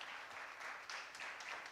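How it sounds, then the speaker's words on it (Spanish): A church congregation applauding during a sermon, faint, steady clapping that sounds distant in a large room, with no clear speech over it. "Dale un aplauso al Señor si lo puedes creer."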